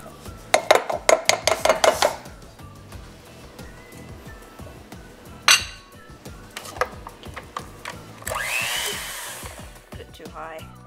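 A spoon scoops moon pie mixture out of a bowl, giving a quick run of bright clinks against the bowl, a sharp knock, then a soft scraping swish. The sounds are close, with no talking.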